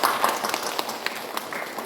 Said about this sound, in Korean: 아유, 박수